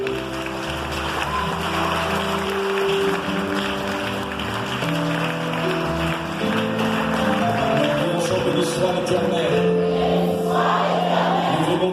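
A church congregation at a Haitian Mission worship service applauds steadily in a dense, continuous wash of clapping over sustained music, lasting throughout.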